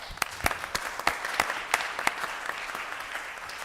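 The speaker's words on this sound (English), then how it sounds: "I'd like to give a round of applause to Darren." A round of applause from the audience at a Meet the Candidates night, honoring a participant named Darren: steady, moderately distant clapping from a modest crowd with sharper individual claps standing out, lasting the whole stretch.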